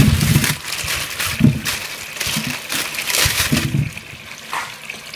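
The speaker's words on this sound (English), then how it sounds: "The next thing going over in here is the potatoes to wash." Water running into a kitchen sink while potatoes are washed, a continuous splashing flow broken by irregular sloshing and knocks as the potatoes are handled under the stream.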